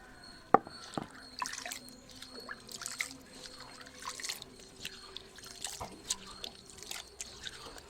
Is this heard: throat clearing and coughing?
no